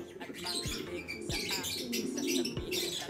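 Pet pigeons coo and chirp close by in a loft, soft throaty calls recurring irregularly, with a few sharp thumps from handling.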